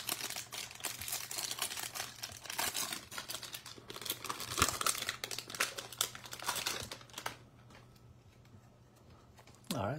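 A Topps Series 1 baseball card pack being torn open, its foil wrapper crinkling and crackling in close, busy bursts while someone talks, then quieting near the end.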